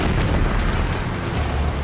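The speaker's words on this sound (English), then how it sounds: "locals and tourists are hit by the explosion." An explosion near a revered jungle temple complex hits locals and tourists, a loud, continuous low rumbling roar that fills the whole stretch without pause and with no voices over it.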